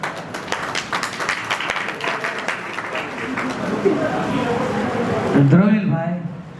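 Applause from the audience at a Vishwakarma community gathering in Chotila, with crisp clapping early on, then the crowd noise thickens as a voice and other sounds rise over it toward the end.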